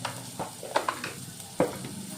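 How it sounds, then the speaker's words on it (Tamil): Ground fennel, pepper, cumin and turmeric being sautéed in a hot pan make a soft, close sizzle, broken by several scraping stirs of a spoon across the cookware. "சோம்புத்தூள், மிளகுத்தூள், ஜீரகத்தூள், மஞ்சத்தூள் போட்டு நல்லா அப்படி வதக்கிக்கங்க."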